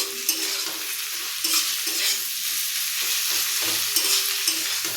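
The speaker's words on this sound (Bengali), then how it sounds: "কড়ার মধ্যে পেঁয়াজ কুচি রসুন বাটা কাঁচা লঙ্কা দিয়ে এটা লাল লাল করে ভাজছি" Chopped onion, garlic paste and green chilli fry in a wok with a continuous close sizzle, broken by periodic scraping stirs of a spatula against the pan.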